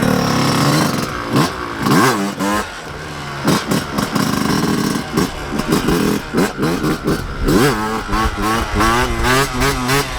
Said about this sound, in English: So this is a 2006 RM125, the last year that the RM125 was actually in production